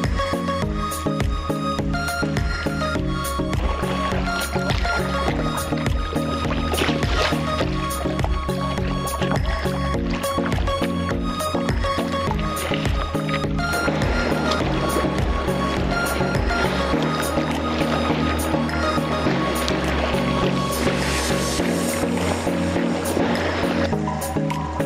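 Kayak paddles dip and pull through the water on Banks Lake in Washington, a close rhythm of splashes and drips with gentle lapping around the hull, continuous and without talk.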